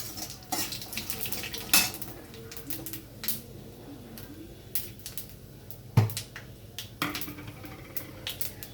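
Bay leaf, dried chilli and panch phoron crackle and sizzle in hot oil for sukto, with a soft frying hiss under sharp scattered pops and occasional clinks of a utensil against the pan, no one speaking.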